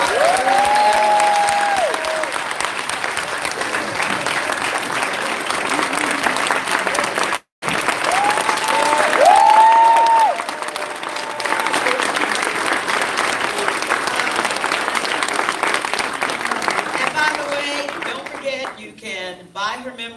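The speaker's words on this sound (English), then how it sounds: "Ladies and gentlemen, could we please have a round of applause?" An audience applauds at a live event honoring the oldest living survivor of the Tulsa Massacre, with sustained, dense clapping that carries on loudly for many seconds, briefly broken once, and a few cheers rising within the crowd.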